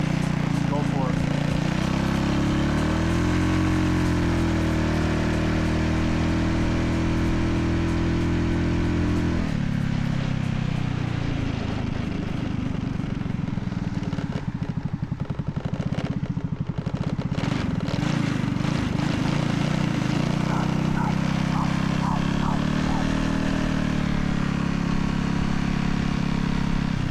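A Riva 125 Gensuki build motorcycle engine runs steadily at a loud, rough idle with a strong low rumble throughout, briefly dipping before settling back, while someone talks over it.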